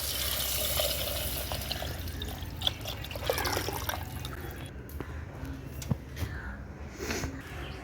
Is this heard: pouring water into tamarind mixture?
yes